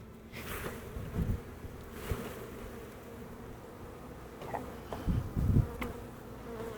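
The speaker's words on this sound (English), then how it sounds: "I got a bee up my pant leg." Honey bees buzz steadily around an opened nuc hive during a beekeeping inspection, a close continuous drone with a few louder swells as bees fly near.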